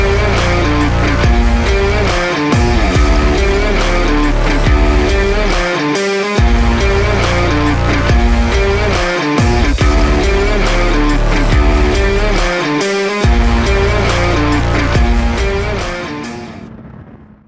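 Honda CBR 650R motorcycle with E-Clutch riding through bends, its engine a loud, steady close drone that rises and falls with brief dips between gear changes and throttle shifts, fading at the end.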